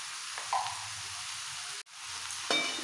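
Rice, lentils and mixed vegetables sauté in a pot for festival khichuri, giving a steady close sizzle with a few soft stirring scrapes and one brief cut to near silence midway.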